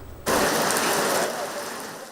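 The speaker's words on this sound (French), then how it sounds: "Matinée de pluie à Colobane" Morning rain falling at Colobane market in Dakar: a steady hiss of rainfall that starts suddenly, stays loud and dense, and eases slightly toward the end, with no talking.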